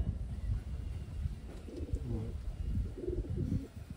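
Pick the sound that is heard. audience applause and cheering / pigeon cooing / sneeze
pigeon cooing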